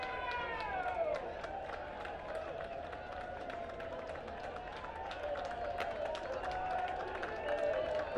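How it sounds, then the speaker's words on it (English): Crowd ovation for a substituted soccer player trotting off the pitch at a One Knoxville SC versus Northern Colorado Hailstorm FC match: a steady, moderate wash of applause and crowd noise holds throughout without a break. "But Villalobos gets an ovation from the crowd for his effort"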